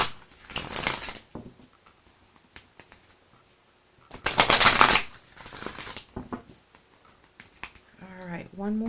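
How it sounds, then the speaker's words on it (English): Tarot emotion cards are shuffled in two rustling bursts, close and crisp, with a short pause between them and quiet handling noises around them; a voice speaks briefly near the end. "So let's give these a good shuffle"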